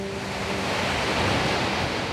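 Broadband wash of Gulf of Mexico ocean waves rolling in, a steady surf roar swelling slightly midway, with no voices.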